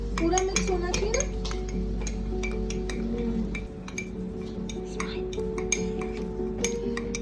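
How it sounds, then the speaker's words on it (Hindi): A metal spoon clinks and scrapes against a mug while stirring mug cake batter at home, in steady close rhythm, with a voice and background music. "अच्छे से पूरा मिक्स होना चाहिए ना"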